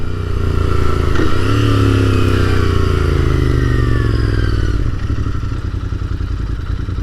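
A Royal Enfield Interceptor 650 motorcycle rides along a back lane, its engine loud and close, revving down as the rider slows and pulls over to idle.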